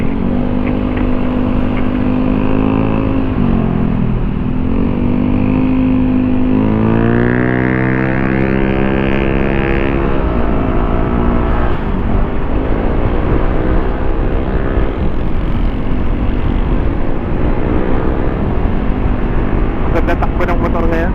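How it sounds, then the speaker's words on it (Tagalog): A Honda PCX160 motor scooter riding along a road, its engine drone steady and close with rising and falling pitch as it speeds up, under wind rush, with people talking over it throughout. "Ganda takbo ng motor ngayon."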